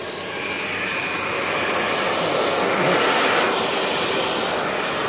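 A loud, steady rush of blowing air from a Parlex 1500 heat gun running close by, holding constant for several seconds with no talking.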